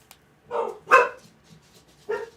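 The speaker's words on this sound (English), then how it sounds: "the dog's going to scream and be ridiculous" A dog barks three times in separate sharp yelps, fairly close and moderately loud, with quiet pauses between and no talking.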